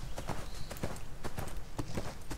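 Rhythmic clip-clop of a horse's hooves in the online game ArcheAge, steady repeated hoofbeats at a trotting pace, close and clear with game ambience behind.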